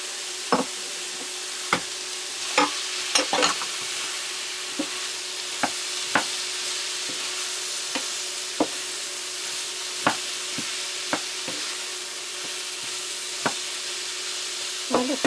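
Cabbage sizzling in a frying pan for lumpiang sariwa, with a steady loud frying hiss and regular sharp spatula knocks and scrapes against the pan as it is stirred, close and without talk.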